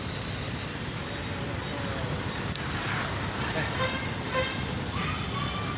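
Busy city road traffic in Bhubaneswar rumbles steadily close by, with engines droning and a few car horns tooting briefly through the dense noise.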